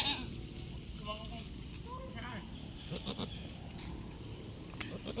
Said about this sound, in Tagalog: Ang dami na naman pala nating kambing.